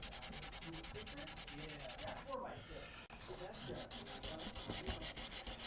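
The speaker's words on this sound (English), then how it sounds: "Now I'm using some 320 grit here, just to smooth out that top surface of the CA glue." A Yamaha acoustic guitar neck is sanded by hand with 320 grit sandpaper to smooth CA glue. Close, rhythmic back-and-forth scratchy strokes repeat steadily, with a short pause partway through.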